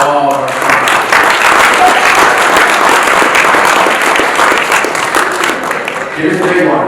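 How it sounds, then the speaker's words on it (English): A banquet crowd at a youth wrestling awards dinner gives its sponsors sustained, loud applause that fills the room at an even level, with a few voices calling out over the clapping. "Round of applause for all of our sponsors."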